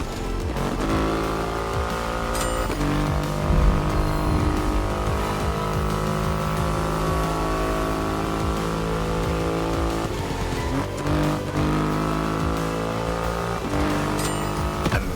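A Triumph Rocket 3 motorcycle with a 2.5-litre engine in The Crew Motorfest racing game roars loudly and steadily, its engine tone shifting through several revs and gear changes with brief dips, alone without talk.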